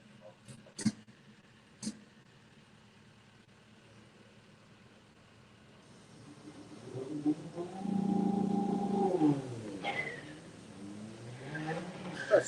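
A Volkswagen TDI Polo at a drag strip: after a couple of sharp knocks, an engine note rises into a loud revving pass with changing pitch, heard at moderate distance, with some tire noise.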